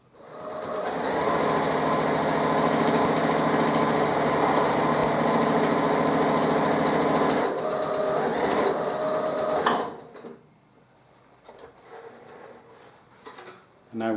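A sewing machine stitches across the ends of a leather-bottom bag, giving a loud, fast, steady mechanical whir for nearly ten seconds. It then stops, followed by quieter handling noises and a brief burst of sound at the very end.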